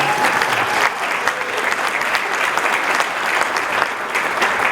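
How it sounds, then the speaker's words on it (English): A room of attendees at a Rotary Club meeting gives warm applause, a dense, continuous wash of many hands clapping at even loudness throughout. "Let's give a big round of applause for her."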